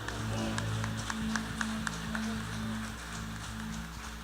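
A church congregation claps along in rhythm during a worship service at a missions congress, the steady patter of hands running beneath sustained keyboard music.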